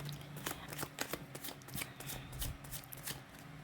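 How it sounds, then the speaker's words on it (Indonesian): A deck of tarot cards being shuffled by hand, a steady run of soft riffling flicks and slaps, close and fairly quiet, with no talking over it. "sambil saya baca doa dan saya kocok kartunya"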